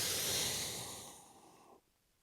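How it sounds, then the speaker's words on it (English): A single long, airy exhale during breathwork meditation, soft and close, gradually fading before ending abruptly in near silence. "And exhale."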